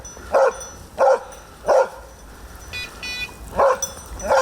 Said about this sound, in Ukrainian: Бельгійська вівчарка Беша успішно склала цей тест